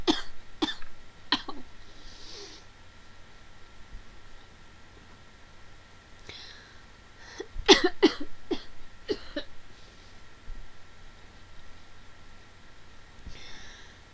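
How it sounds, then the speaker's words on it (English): Several sharp coughs and throat-clearing bursts, scattered irregularly with a cluster in the middle, close to the microphone over faint background hiss. "Now I'm coughing."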